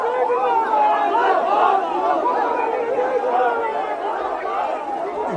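A crowd at a protest sit-in site in support of Mamata Banerjee, a mass of voices raised together in continuous shouting and chanting. The sound is steady and fairly loud, with no gaps.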